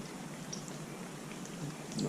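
Steady, soft rain hisses continuously in the background, an even wash of patter with no voices.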